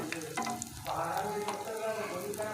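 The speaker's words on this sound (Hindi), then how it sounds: "हमने इसी तरह फ्राई करनी है हल्की आंच पे" Potato kebabs frying in a pan on low heat give a soft, steady sizzle close by, with light scraping and stirring clatter, fairly quiet and with no talk.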